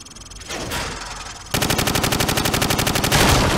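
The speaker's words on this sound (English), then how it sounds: "Now shoot at the targets while firing from the hip." Rifle gunfire at range targets in Call of Duty 4: Modern Warfare: a few loud single shots, then a rapid, even burst of automatic fire that carries on to the end, with no voices.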